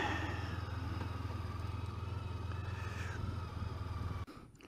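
A motorcycle engine idles steadily with a low, even throb and a faint rattle, fairly quiet and continuous until it cuts off abruptly near the end.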